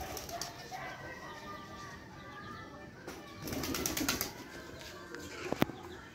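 Pigeons take off and fly overhead while a bird of prey circles among them, their wings giving bursts of flapping and fluttering, with a louder flurry midway and a brief sharp clap near the end over faint background noise.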